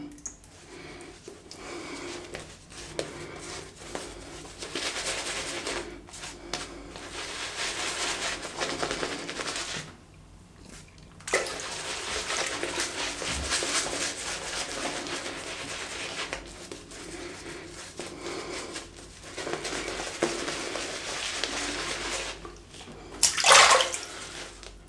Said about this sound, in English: this is my favourite part of the shave, the lathering process, creating this lather